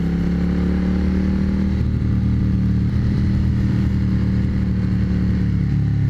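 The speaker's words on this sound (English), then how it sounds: "a beautiful cruising motorcycle" A custom Suzuki Intruder cruiser motorcycle engine rumbles steadily at a low idle and cruising pitch, close and continuous, with a slight shift in tone partway through.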